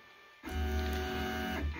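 A 3D printer levelling its build plate: after a quiet start, a loud steady motor hum with tonal whine begins abruptly and holds, dipping briefly near the end.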